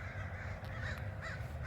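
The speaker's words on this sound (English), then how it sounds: "So there's the crows over there." Several crows caw from a short way off across a river, the calls spaced out over steady outdoor background noise.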